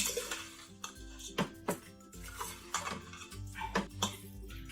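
Salted beef for Cuban vaca frita is mixed in a bowl, producing scraping and clinking of utensil against dish in an uneven rhythm, close and moderately quiet.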